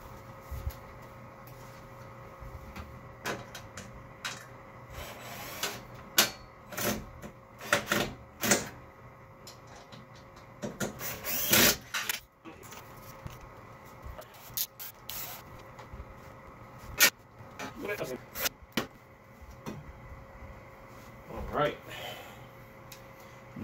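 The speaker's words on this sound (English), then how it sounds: "These little tiny miniature screws here that go into the side of the rack." Tiny miniature screws are fitted into the side of a server rack in a home lab. Sharp metallic clicks, taps and scrapes come at irregular intervals under intermittent talk.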